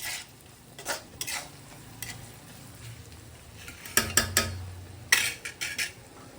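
Cluster bean curry with fresh curry leaves being stirred in a pan, Maharashtra style: a soft sizzle under intermittent spoon scrapes and metallic clinks against the pan, louder bursts of stirring near the end, close up, with no talking.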